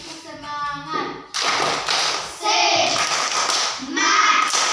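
A class of schoolchildren performs tepuk semangat, a rhythmic encouragement clap in an Indonesian classroom, with patterned bursts of claps alternating with children's chanting voices, close and lively.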